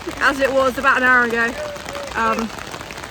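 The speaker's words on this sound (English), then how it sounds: "Current situation is still raining" Rain falls steadily in London under a broken umbrella, a constant pattering beneath a person's nearby speech.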